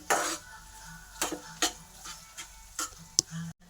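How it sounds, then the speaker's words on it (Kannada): Masala of chilli powder and sambar powder fries in oil in a pan for curd okra, with a spoon scraping and clinking in irregular strokes over a faint sizzle, close and fairly quiet, ending in a brief clunk. "ಎಣ್ಣೆ ಬಿಡೋವರೆಗೂ ಫ್ರೈ ಮಾಡ್ಕೊಳ್ಳಿ ಫ್ರೆಂಡ್ಸ್."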